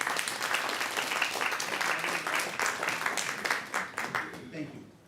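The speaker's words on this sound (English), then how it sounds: "a round of applause for her" An audience at a Black History Month event applauds, a steady spread of clapping that tapers off toward the close.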